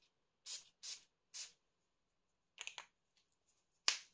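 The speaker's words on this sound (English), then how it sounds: "simply to spray it on myself and see how we feel, I will spray on the clothes." Three short, airy spritzes of a Zara Bogoss perfume spray bottle onto clothes in a row, a pause, then a quick burst of sprays and one final sharp spritz, close and otherwise quiet.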